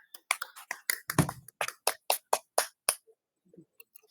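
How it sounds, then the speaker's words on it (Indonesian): A small group of children in a classroom claps in a sparse, fairly steady series of about a dozen sharp, separate claps that stop short, faint and close with no talking. "Ya, kita berikan tepuk tangan."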